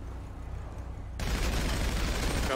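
Gunfire breaks out in a GTA roleplay shootout at a construction site, beginning with a quieter stretch and then jumping into a loud, dense burst of rapid shots that continues to the end.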